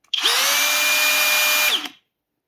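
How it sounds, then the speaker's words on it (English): A Flex hammer drill spins up and runs steadily at high speed for nearly two seconds, a loud close whine with a clear motor tone, then winds down and stops. "Now over to the DeWALT. And finally the Flex."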